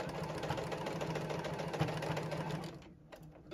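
A JUKI sewing machine stitches a tote bag handle in one steady, close, humming run that halts abruptly near the end, leaving quiet.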